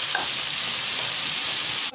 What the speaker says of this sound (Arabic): غادي ندير فيها البصله وغادي نديرها تشحر